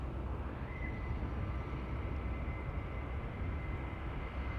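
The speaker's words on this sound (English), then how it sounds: "is the landing of a Boeing 747 ever really disappointing?" A Boeing 747 landing at Amsterdam Schiphol Airport, heard as a steady broad roar of jet engines that holds at an even loudness throughout, with a faint high whine over the rumble.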